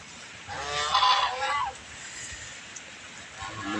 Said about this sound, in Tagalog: Matapang na gansa yan